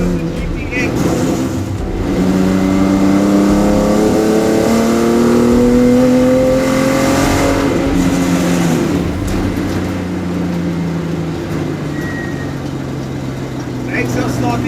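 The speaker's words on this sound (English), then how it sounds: "We're driving the Henny van der Linde GTX." Henny van der Linde GTX sports car on the move, its engine rising and falling through revving pitch sweeps close to the microphone, loud and continuous with a voice speaking over it.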